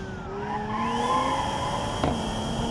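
A race car in BeamNG.drive accelerates hard out of a corner, engine note climbing steadily under load with tire scrub, loud and close, with a brief sharp knock midway.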